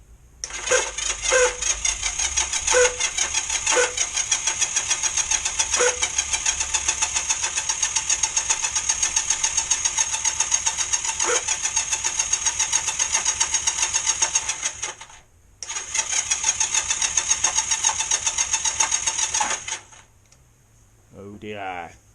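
Starter motor on a Honda XR125 twin motorcycle engine churns in long rhythmic cranking bursts, with choke on, for about fifteen seconds, a brief pause, then another cranking run of several seconds that ends without the engine firing; close and loud.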